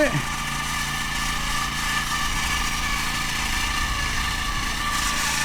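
A rice planting machine's small engine runs continuously nearby in a field, a steady loud drone with an even mechanical rattle and no break in its rhythm, while someone speaks over it.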